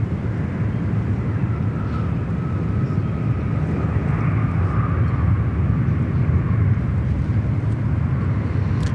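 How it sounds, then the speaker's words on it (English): A Korean Air airliner rolls down the runway at Sydney Airport, its jet engines giving a loud, steady roar that holds for the whole stretch, with a faint rising tone beneath. "Korean Air rolling out as well"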